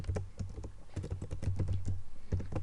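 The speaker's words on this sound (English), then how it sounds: "let's go ahead and type view" Computer keyboard typing in quick bursts of keystrokes while coding, close and fairly steady over a low background hum, with no talking.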